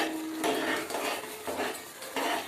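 Melted sugar mixture, fried in oil or ghee, is stirred in a pan: four rhythmic scraping strokes rasp close by over a faint simmer, with no talking.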